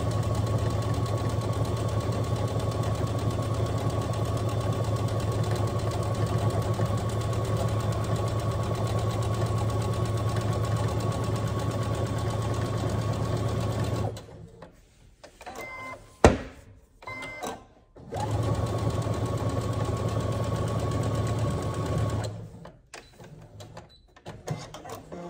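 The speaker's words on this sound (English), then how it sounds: "sink that needle and make sure I'm all lined up nice and go for a seam" A sewing machine stitches a seam on a drawstring backpack, running with a steady, even mechanical hum and rapid needle clatter for about fourteen seconds, stopping briefly, then running again before stopping.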